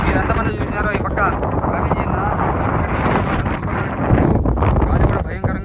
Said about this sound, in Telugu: గాలి కూడా భయంకరంగా వస్తుంది